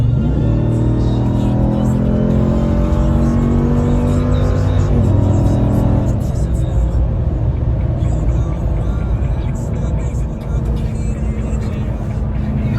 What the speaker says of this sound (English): do an acceleration. Are you ready? With the trailer.